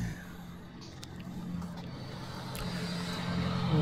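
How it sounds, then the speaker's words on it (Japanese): On a narrow, hilly residential street in Japan, a car draws closer, its low engine rumble growing gradually louder under quiet ambient street noise. "正面から車来ましたね"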